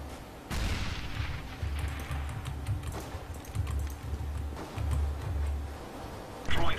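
CS:GO match audio: scattered gunshots and a grenade blast mixed with clicking keyboard keys, with rumbling low thuds throughout and a louder burst at the end.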